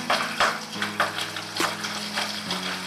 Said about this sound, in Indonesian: Kita aduk dulu jadi satu.